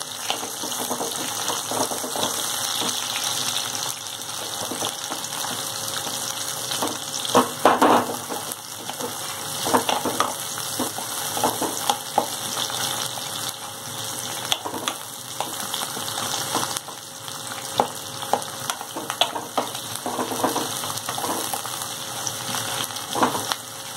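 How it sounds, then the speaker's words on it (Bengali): Sliced onions fry in oil over high heat until browned for Hyderabadi chicken curry, giving a steady, loud sizzle with occasional stirring scrapes and bursts of crackle, without any talk. "ভালো করে লাল লাল করে পেঁয়াজগুলোকে আমি বেরেস্তা করব।"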